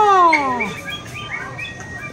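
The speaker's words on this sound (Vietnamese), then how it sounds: "À, giống chim này, chim chỉ đỏ này." A red-whiskered songbird in a garden aviary lets out a clear descending whistled call up close, followed by a few softer chirps.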